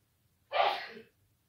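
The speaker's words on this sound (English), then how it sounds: "my husband's sneezing." A man sneezes once, a single close burst with a short breathy tail, alone against a quiet indoor background.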